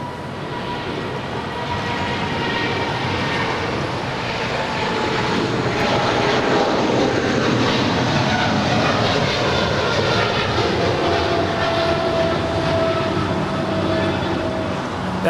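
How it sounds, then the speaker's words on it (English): A five-year-old United Boeing 777-300ER departs LAX for Honolulu, its jet engines a broad, sustained roar that builds and holds loud across the whole stretch with no talk. "That is United 1224 departing to Honolulu. It's a 5-year-old 777-300ER."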